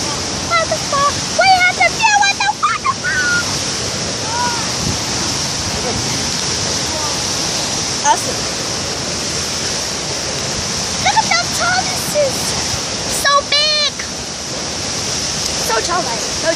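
Constant rushing water roars like a waterfall throughout, with bird chirps and whistles breaking through at moments.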